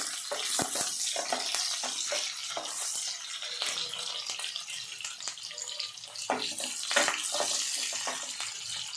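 Onions and green chilies sizzle steadily in oil in a home kitchen, a dense close hiss with scattered crackles and occasional stirring clinks throughout, no speech.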